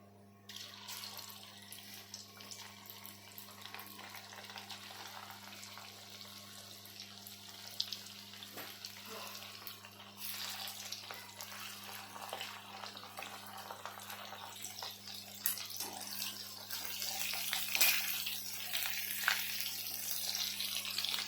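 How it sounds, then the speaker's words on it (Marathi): Chicken 65 frying in a pan, a steady sizzling hiss that grows slightly louder and denser toward the end, continuous and close, with no voices over it. "आता आपण हे फ्राय करून घेऊया"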